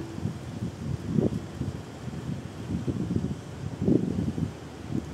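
Steady sea breeze at the Kennedy Town waterfront in Hong Kong buffets the microphone, with low rumbling gusts that swell and fade, loudest around the middle and near the end.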